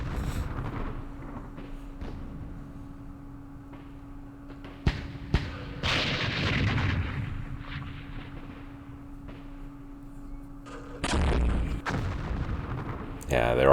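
Mortar fire in the war game Campaign Series Middle East: a few sharp distant thumps and a couple of heavier booming blasts over a low steady hum, with brief talk.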